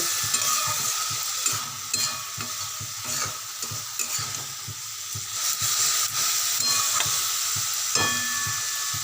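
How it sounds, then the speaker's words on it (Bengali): Cabbage frying in a pan with no spices, a steady close hiss and sizzle running throughout with repeated scraping stirs and utensil knocks. "ভালো করে এটা একটু ভাজা ভাজা করে নেব"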